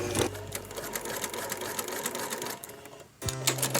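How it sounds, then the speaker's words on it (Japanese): Sewing machine stitching fabric for a bag made from a remade Nagoya obi, a rapid close rattling chatter that runs steadily, pauses briefly near the end, then resumes. "縫い始めと縫い終わりを3センチぐらい縫い重ねておきます。"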